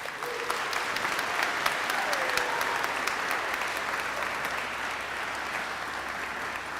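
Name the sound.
graduation crowd applause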